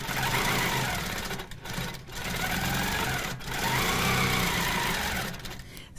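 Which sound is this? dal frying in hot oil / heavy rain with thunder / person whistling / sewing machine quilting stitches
sewing machine quilting stitches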